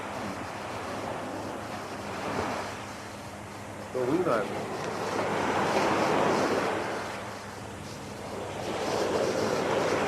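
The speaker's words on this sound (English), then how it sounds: "That is water flow." Ocean waves wash steadily against a shore outdoors, with wind buffeting the microphone and people talking over the surf throughout.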